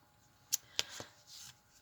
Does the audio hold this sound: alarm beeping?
no